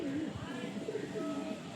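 A female pigeon coos softly in short rolling phrases, close by, with faint background murmur.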